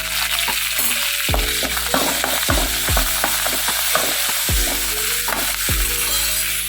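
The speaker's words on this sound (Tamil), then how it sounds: "அந்த வதக்கின கடாயிலே தான் தாளிக்கிறோம்." Hot oil sizzles loudly in a kadai as curry leaves, mint and coriander are tempered, with repeated metallic clinks and scrapes from stirring.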